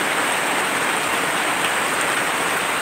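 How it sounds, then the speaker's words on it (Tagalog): A steady roar of heavy rainfall, thick and continuous, with drops pattering on a surface close by. "Napakalakas ng ulan guys, pasensya na, hindi nyo ako marinig."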